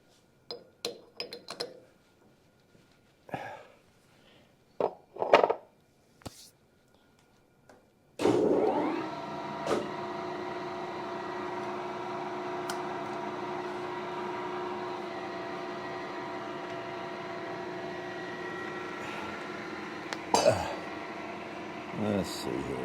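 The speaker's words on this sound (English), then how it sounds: "I was going to chuck it up in the lathe here" After a few clinks and knocks of handling metal, a lathe turning a gas tank apart starts up and runs with a steady, droning mechanical hum for over ten seconds, with occasional clanks and voices nearby.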